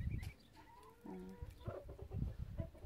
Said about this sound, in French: Ça, c'est un coq là.